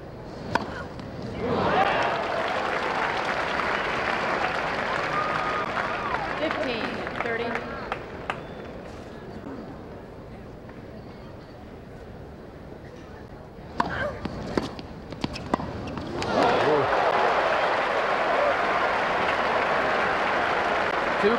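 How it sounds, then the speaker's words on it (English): A tennis crowd at the 1985 US Open women's final applauds and cheers in long loud swells, dies down to a quieter stretch, then erupts again, with a commentator talking over it. "It'll be hard to get this crowd quiet now."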